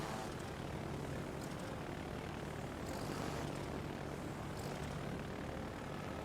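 Carrier aircraft droning steadily in World of Warships: Legends, a continuous broadband propeller-engine hum holding at moderate level throughout with no talk.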